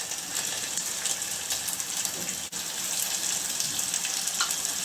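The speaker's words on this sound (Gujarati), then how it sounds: "હવે આપણે ડુંગળી થોડી સાંકળી લઈશું" Onions sautéing in a pan with ginger, green chillies and asafoetida produce a faint, continuous hiss of frying, steady and unbroken except for one brief dip, with no talking.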